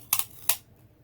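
Scissors snip through regular Scotch tape in a quiet room: a quick double snip, then a single sharper cut, all crisp and close.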